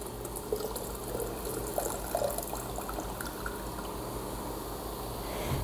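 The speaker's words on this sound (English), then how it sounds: "Carefully remove any water that has entered the jar." Water pours and trickles out of a glass canning jar, a soft continuous splashing with a few drips, heard close without talk.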